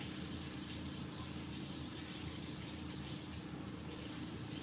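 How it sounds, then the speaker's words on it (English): Water running steadily from a tap, as if someone is washing their hands, a continuous hissing gush at moderate distance, unbroken and fairly quiet, with no talk. "It sounds like water running"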